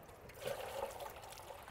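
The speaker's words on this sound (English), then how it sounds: "So I'm gonna put a little bit of water in here." Water trickles and splashes as it is poured into a container at a tidal creek, a soft continuous liquid burble close by, with no talking.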